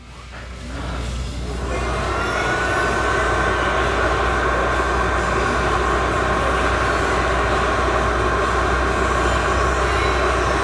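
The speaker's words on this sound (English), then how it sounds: "This is an induction heater, okay?" An induction heater heating a bolt red hot during an M8 engine teardown, giving a loud, steady electrical hum and whine that swells over the first two seconds and then holds constant.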